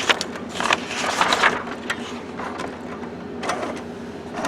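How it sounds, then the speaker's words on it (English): A Canon TR8520 inkjet printer feeds and ejects a sheet of paper, giving a near, moderately loud run of mechanical whirring, clicking and sliding rollers in several short bursts, with no talk. "Okay, it always kicks out a sheet."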